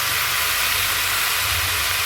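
Raw cut potatoes hitting hot oil in a frying mutton curry, a steady loud sizzle and hiss throughout, no talk.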